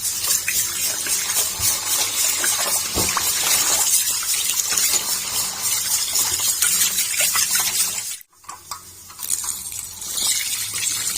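Tap water gushing steadily into a sink or bowl while raw chicken is washed, a continuous splashing rush that cuts out briefly near the end before resuming more softly.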